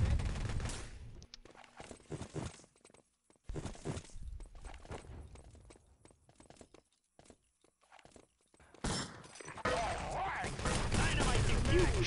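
Gunfire in the Wolfenstein: Enemy Territory Supply Depot map, a mix of bursts and single shots scattered through the scene, with a dense, loud stretch of firing near the end and players shouting over it.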